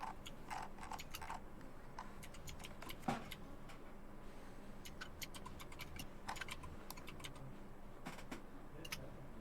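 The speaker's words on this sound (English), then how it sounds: "I apologize if you can hear my keyboard, by the way." Loud mechanical keyboard with loose switches, clicking in irregular bursts of quick keystrokes over a steady low background hum, with one sharper clack partway through and no talking.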